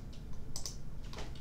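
Close, crisp keystrokes on a computer keyboard, a few quick clicks in an irregular burst with no talking.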